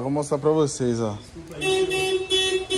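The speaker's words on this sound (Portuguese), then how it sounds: "eu coloquei essa bateria aqui, ela dispara o alarme na hora" A 2021 Honda HR-V alarm goes off the moment a battery is connected, a steady electronic tone starting after someone speaks briefly, then continuing with repeated pulses.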